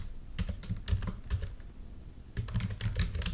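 Close, bursty tapping on a computer keyboard while a command is entered into a package manager console, with quick clustered keystrokes separated by a short pause.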